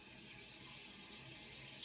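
Water pours steadily into a cooking pot for reheating in a Daegu, Korea apartment kitchen, a continuous close hiss of running water with no talk.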